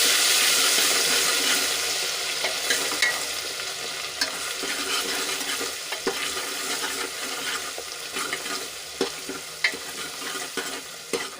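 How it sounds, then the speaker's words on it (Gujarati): Ginger, garlic and chili paste with tomatoes stirred and frying in hot oil for a Gujarati potato curry: a steady, close sizzle with scraping stirs, no voices. "તેલમાં સરસ રીતે મિક્સ કરી દઈશું"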